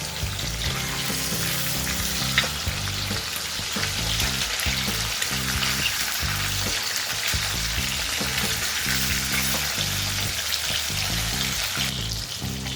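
Pieces of katla fish fry in hot oil for a dal-style doi katla, giving a steady, close, loud sizzle and crackle that runs without a break.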